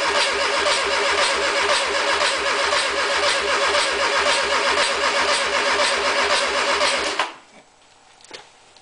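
A VW 1600 engine cranks on the starter with a fast, even chugging rhythm for about seven seconds without catching, then cuts off into near silence with a faint knock.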